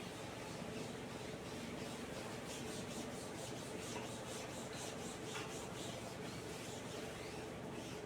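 An eraser rubs out writing in steady, fast, faint back-and-forth scrubbing strokes that continue throughout, with no talk over them.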